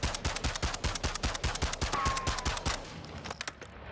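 Rapid automatic fire from an MX Guardian in the Warzone 2 firing range: a fast, evenly spaced stream of sharp shots for nearly three seconds, then a brief trailing rattle before it stops.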